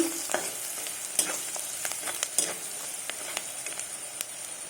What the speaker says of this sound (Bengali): হলুদ গুঁড়া দিয়ে একটু নাড়িয়ে নিলাম